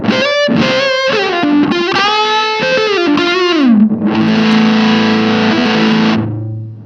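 An electric guitar through a Mythos Big Puft fuzz pedal, thick fuzz distortion, plays a few bending notes and sustained chords, loud and saturated, ending with a held note that fades.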